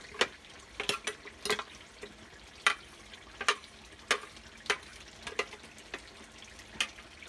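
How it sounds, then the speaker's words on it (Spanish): Salsa fries in oil with pork for a tamale filling, giving sparse, sharp crackles and pops scattered irregularly over a quiet, low simmering hiss. "nada más que se sofría aquí con la salsa para que quede bien espesita"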